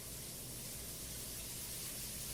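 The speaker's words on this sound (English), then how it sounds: "the pleasant torrent of hot water sprays across my body" A hot shower sprays in a video game scene, a faint, steady hiss of water with no break or change.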